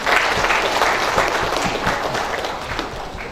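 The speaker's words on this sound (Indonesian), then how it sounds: "Boleh tepuk tangan dulu?" Indonesian Nahdlatul Ulama installation ceremony crowd applauding steadily for a few seconds, dense clapping filling the hall with no pause.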